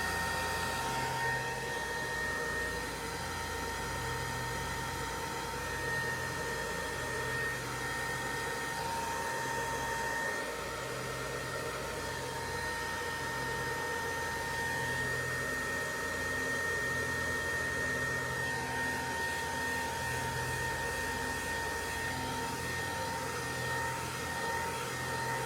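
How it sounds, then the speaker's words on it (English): A hair dryer runs steadily at a distance, drying alcohol ink on a painted rose, giving a continuous whirring hum with a whiny tone that holds level through the whole stretch with no talk. "So I'll get my hair dryer out."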